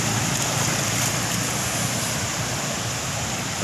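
A vehicle pushes through strong, fast-flowing flood water in Samarinda, East Kalimantan, with a loud, continuous rushing and churning of water mixed with wind noise.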